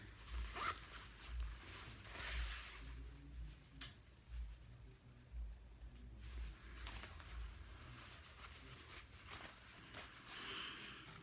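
A zipper on a pillowcase is pulled open and closed several times, quick rasping runs with fabric rustling between them, close by and fairly quiet.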